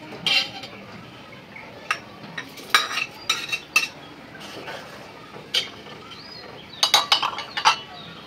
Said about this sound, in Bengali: সেমাইটা দিয়ে একটু নেড়ে চেড়ে এখন দিয়ে দিব কোরানো নারকেল।